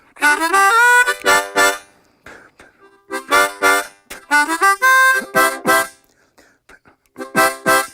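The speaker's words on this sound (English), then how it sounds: "playing the accents of a reggae that the drummer told me" A diatonic harmonica plays short punchy chords in a bouncy on-off oompa rhythm, loud and close, with brief pauses between bursts.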